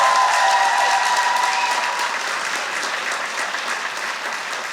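A stand-up comedy audience gives loud, sustained applause that fades slightly toward the end, a dense wash of clapping with no talking over it.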